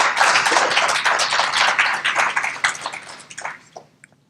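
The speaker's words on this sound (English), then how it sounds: "Give him another hand clap." An audience at a graduation ceremony gives a burst of hand clapping, dense and loud at first, then thinning into a few scattered claps as it fades out.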